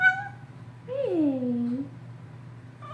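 A pet cat gives one clear, drawn-out meow that slides downward in pitch, close and fairly loud, with brief human vocal sounds just before and after it.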